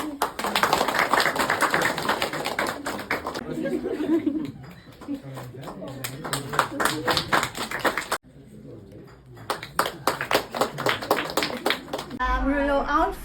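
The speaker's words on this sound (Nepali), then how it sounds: "ताली बजा ताली" Hands clap rhythmically in sharp, rapid bursts during a Kali puja celebration, with voices chatting and laughing among the claps throughout. One brief pause breaks the clapping partway through.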